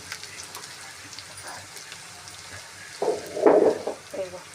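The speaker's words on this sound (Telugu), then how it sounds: "అలమెల్లిగడ్డ పేస్ట్ ఇది మంచిగా పచ్చివాసన పోయేదాకా మంచిగా కలుపుకుందాం" Onions stirred with ginger garlic paste in a pan for egg curry: a low, steady sizzle, then a brief louder burst of scraping and frying near the end.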